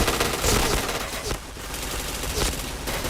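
Dense automatic gunfire in the shooter game Point Blank, rapid bursts filling the whole stretch loudly with only a brief dip in intensity.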